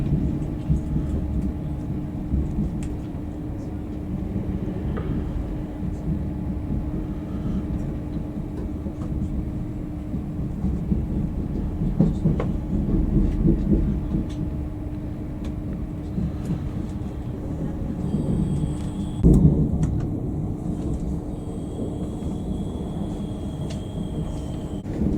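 Steady low rumble of a passenger train running, heard from inside the carriage on a line toward Merseyside, with continuous track and motor noise and a brief louder clunk near the end.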